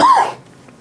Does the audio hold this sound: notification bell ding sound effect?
no